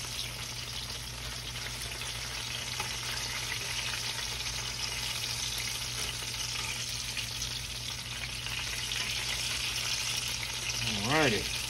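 Hand pies deep-frying in hot grease, a steady dense sizzle and crackle running the whole time, close and even, with a brief clink of a fork near the end.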